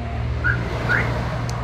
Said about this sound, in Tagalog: flip key alarm installed on Hyundai Eon 2014 model